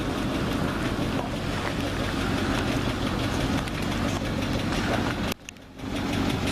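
A 1959 GMC 550-Series dump truck engine idles with a rough, steady rumble and wind noise over it, dropping out briefly near the end before resuming.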